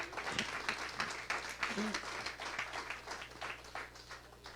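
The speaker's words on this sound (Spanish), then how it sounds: "Un aplauso al Señor esta mañana." Applause from a church congregation during a Spanish-language sermon, a dense steady wash of clapping lasting several seconds at moderate level, with scattered voices mixed in.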